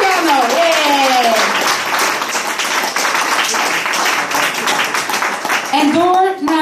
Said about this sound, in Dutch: de wildkaart wil ik een enorm applaus voor Christopher de Jel